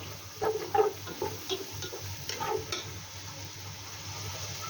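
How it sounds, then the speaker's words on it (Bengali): Sausages frying in a pan on the stove while spaghetti is cooked, a soft steady sizzle with a few light clinks of stirring, faint and close, with no talking. "সসেস দিয়ে ভালোভাবে ভেজে নেব"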